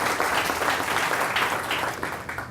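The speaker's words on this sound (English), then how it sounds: "I think he deserves a huge round of applause" An audience gives a round of applause, a dense, even roar of many hands clapping that holds steady and then begins to fade slightly near the end.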